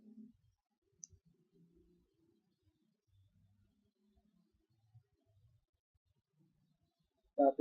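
A computer mouse clicks faintly and sparsely while working in MATLAB on a quiet desk, small isolated ticks spread across the stretch, ending in a short louder burst.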